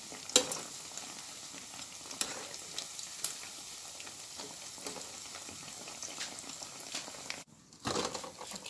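Jamaican saltfish fritters frying uncovered in oil, a continuous bubbling sizzle close by with faint crackles and small pops, briefly interrupted near the end by a handling knock.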